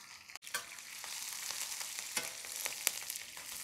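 Whole spices, chopped garlic, ginger and green chilli hit hot oil in a pan, a faint continuous sizzle with scattered crackling pops over a few seconds, no talk.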